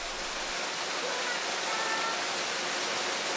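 A small nameless waterfall in a Korean cliff-side valley pours in a steady, fairly loud broadband rush that stays unbroken and close, with no voices.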